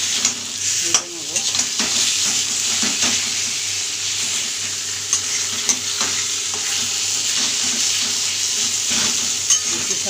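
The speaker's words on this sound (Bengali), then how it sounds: "এই মশলাটার সঙ্গে কচু শাকটাকে ভালো করে আমি ভেজে নেব।" Boiled taro leaves frying with spice paste in a pan, giving a loud, steady close-up sizzle with occasional stirring scrapes.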